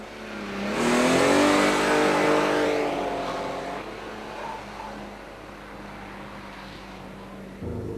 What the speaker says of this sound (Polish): taka sportowa limuzyna powinna mieć taki dosyć charakterystyczny rasowy, jak niektórzy, czy też rajdowy, jak mówią dźwięk